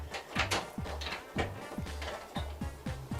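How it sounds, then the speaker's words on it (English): An old skeleton key turns in the original lock of an old home's door, making a rapid series of mechanical clicks and small clunks, close and fairly quiet, with no talk. "All right, she's locking the door."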